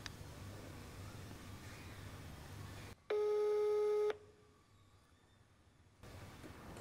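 An unanswered phone call gives a single steady ringing tone lasting about a second, followed by silence and faint room noise, with a brief burst of quiet background before and after.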